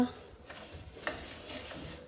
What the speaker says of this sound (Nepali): यो मसला भुट्दैछु, धनियाँ भुट्दैछु